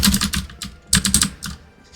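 Fingers type on a computer keyboard in quick close-up bursts of clicky keystrokes, pausing briefly between clusters, with no voices.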